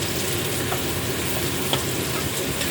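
Fried rice sizzles loudly and steadily in a pan while it is stirred, with faint scrapes through a dense, close frying hiss and no talk.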